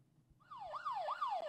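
A police siren wails outside, rising and falling in a smooth repeating sweep that starts abruptly and holds fairly loud, heard indoors through walls, with no talking.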